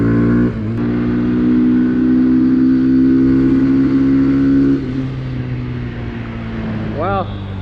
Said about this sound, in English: First time ever on a Grom.